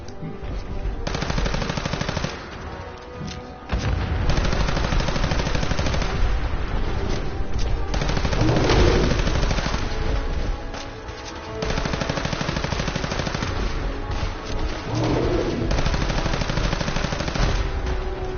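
Continuous heavy automatic gunfire in modded Fallout 4, loud sustained rapid bursts with brief pauses, filling the whole stretch.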